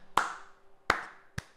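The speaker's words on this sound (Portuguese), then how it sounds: "palmas, velho, palmas" Three sharp, separate hand claps, spaced unevenly and close by, in an otherwise quiet room.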